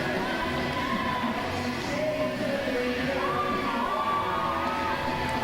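A wrestling crowd in Ipswich cheers and shouts steadily for Jonny Storm, the Wonder Kid, in a hall. The noise holds a constant roar with whoops and shrill voices, and a commentator talks over it.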